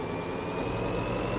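A company car's engine idles and runs steadily in BeamNG.drive, a continuous low drone with a faint high whine, heard alone without talk.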